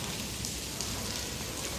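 Steady rain falling on a shelter overhead nearby, a dense, even patter that continues without a break.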